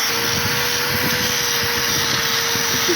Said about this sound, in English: Clean up the steel, make it shine, good for welding.